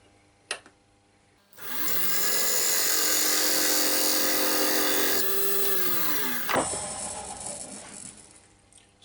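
A wood lathe cuts a groove into a yew bowl near its base, a sustained high whine of tool against spinning wood lasting about five seconds, with quieter workshop sounds before and after.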